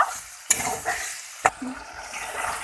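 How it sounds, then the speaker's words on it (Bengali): Spiced potatoes with a splash of water are stirred in a pan, with a low sizzle under two sharp clacks of a spoon against the metal and softer scraping between them, no speech. "জল দিয়ে এখন আমি নেড়ে দিচ্ছি ভালোভাবে"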